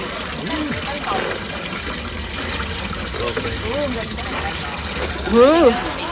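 Water running from a public drinking fountain in Geneva, a continuous splashing trickle heard close up under people talking.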